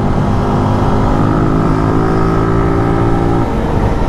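155cc motorcycle on a test ride, its engine droning steadily and loud up close with a constant buzzing hum and slight pitch shifts, no talking over it.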